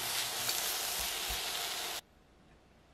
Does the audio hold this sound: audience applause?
no